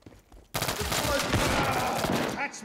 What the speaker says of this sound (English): Again, this shotgun.